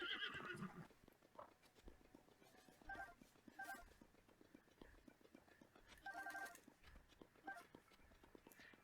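A horse in Zelda: Tears of the Kingdom whinnies loudly at the start, followed by a steady run of soft clip-clop hoofbeats with a few brief chiming game tones over the next several seconds.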